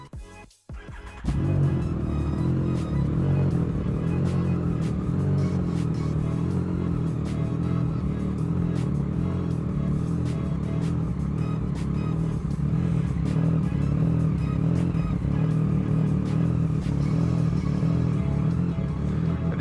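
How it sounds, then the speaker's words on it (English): Cold startup of a Yamaha MT-09 SP fitted with a Blackwidow exhaust inside a garage: a brief starter crank, then the engine catches and settles into a loud, steady, lumpy idle that continues to the end. "this is a cold engine, so let's hear the startup"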